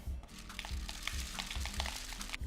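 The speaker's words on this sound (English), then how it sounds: "now that I've got this on, I'm gonna take my rice and pour it in." Dry rice is poured into a cardboard-tube rain stick taped shut at the bottom, giving a continuous close rattling patter of grains with scattered sharper clicks as they strike the tube.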